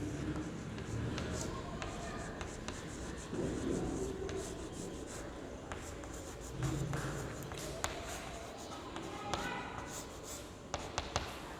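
A teacher writes a definition during a Hindi lecture, the scraping and rubbing strokes close and moderately loud with occasional knocks, a voice speaking at times.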